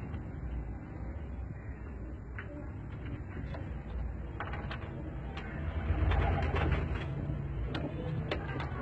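Soft pigeon coos and flutters in a quiet, ambient space in Karachi, with occasional light clicks and taps in the background; no talking.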